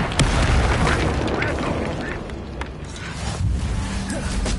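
Fire spell Incendio cast in Hogwarts Legacy, a dense whooshing burst of flame with low booming rumble that carries steadily for several seconds, with a voice calling out over it.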